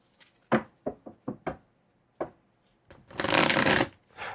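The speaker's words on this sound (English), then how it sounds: "One more big shuffle." Oracle cards being shuffled by hand: a run of short riffling bursts and taps, then one longer, louder sustained shuffle near the end.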